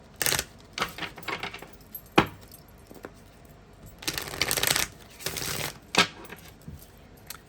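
Tarot cards shuffled by hand in bursts of riffling and slapping, close and crisp, with quiet pauses between rounds.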